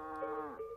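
A Casina cow, a native Asturian breed, gives a single close, sustained moo with a rich harmonic tone, heard alone in the Asturian countryside.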